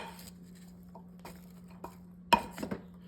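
Chopped carrots and vegetables for stew being stirred in a pot, soft scraping and a few sharp utensil clinks against the pot, quiet and close with no voices.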